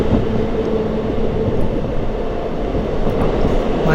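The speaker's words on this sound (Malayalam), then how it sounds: "നമ്മൾ ട്രെയിൻ ഇതാ അത്യാവശ്യം നല്ല സ്പീഡിലാണ് പോയിക്കൊണ്ടിരിക്കുന്നത്" A train runs at speed through hilly country, giving a steady, loud, dense rumble of wheels and carriage noise that holds evenly throughout with no break.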